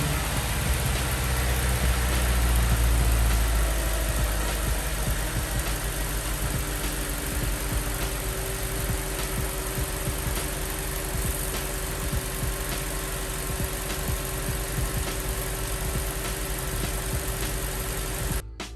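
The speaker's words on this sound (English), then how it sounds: "now we've got to turn her over and let her run and make sure everything's good" An Audi S5 engine starts with a heavy low rumble, then settles into a steady close idle with a faint rhythmic ticking, running unchanged for many seconds.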